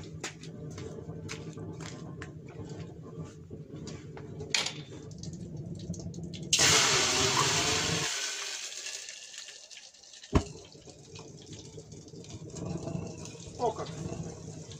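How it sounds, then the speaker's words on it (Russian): A glass of water is poured into the chimney pipe of a running waste-oil stove, a loud gushing splash and hiss for a second or two, set between quieter crackling, clicks and thumps, with someone talking. "Стакан с водой сейчас и залью прямо в трубу."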